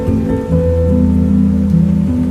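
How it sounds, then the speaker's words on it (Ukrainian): Dense, steady rain pattering loudly on a surface, with a low droning tone layered beneath it. "Травнева злива, із неба лє, наче з відра."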